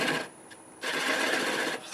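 A wood lathe turns a large walnut slab at about 450 RPM, giving a steady whirring hum with a brief dip where the cutting eases, then a resumed steady tone, close and moderately loud.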